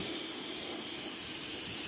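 A spray gun hisses continuously while spraying paint on a Holden VL car body, a steady airy spray with no breaks, close and moderately loud.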